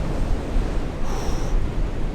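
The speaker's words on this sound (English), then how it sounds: "Those waves are getting a bit big now." Ocean waves rolling in at Ballintoy Harbour on a rugged coastline, a dense, steady wash of surf with gusty wind noise, close and loud with no voices.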